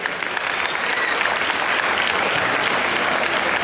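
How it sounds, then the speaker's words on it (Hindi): Loud, dense audience applause at a student event after a Bollywood dance performance, filling the hall with continuous clapping throughout. "जोरदार तालियां हो जाए हमारे बॉलीवुड स्टडर्स के लिए"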